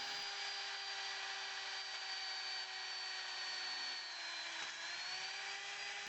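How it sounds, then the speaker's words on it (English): A power drill bores holes in metal awning frame pipes, a steady high whine held at constant pitch for several seconds with a slight dip near the end, alone with no voices. "we measured and drilled the holes for the screws that connect the frame"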